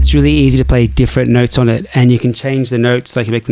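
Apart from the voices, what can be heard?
No everyday noise stands out behind the speech.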